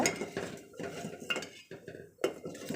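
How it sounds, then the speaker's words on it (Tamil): A spoon scrapes and clinks around a metal pot of semiya payasam in uneven strokes, with soft bubbling between the stirring sounds. "கொட்டிக்கிட்டு நல்லா கிண்டி விட்டுக்கிறேன்"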